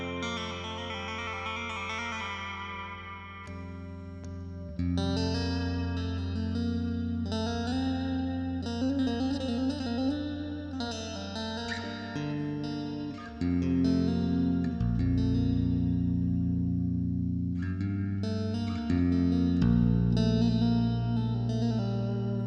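A Chapman Stick played through effects gives a sitar-like, buzzy tone, with sustained melodic notes, bending phrases and deep bass lines shifting across a long, close passage.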